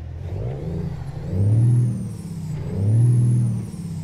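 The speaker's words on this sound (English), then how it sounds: "the truck does get loud from the outside, but in the inside it's not that loud" A truck's engine in American Truck Simulator, heard from outside the cab, revs up loudly twice, each surge rising and then easing back to a deep idle.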